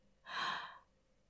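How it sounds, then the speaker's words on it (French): A single low, breathy inhalation of about half a second, drawn in close and soft during breathing practice for singing, with no voice over it. "J'inspire, respiration basse."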